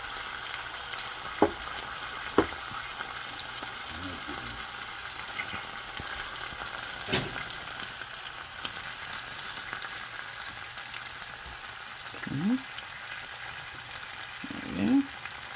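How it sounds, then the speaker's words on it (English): Diced potatoes for hash sizzle softly and steadily in hot grease, with occasional clinks and scrapes from a utensil in the pan. "Oh, sizzle, sizzle."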